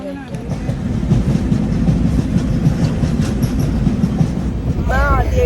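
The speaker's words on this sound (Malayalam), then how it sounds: "ആദ്യമായിട്ടാണ് ട്രെയിനിൽ കയറുന്നത്" A train runs along the rails, heard from inside the carriage as a loud, continuous rumble and rhythmic clatter. A brief voice-like sound rises near the end.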